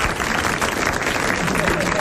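A studio audience applauds during a 1980 French television show, a brief, dense burst of clapping with voices mixed in.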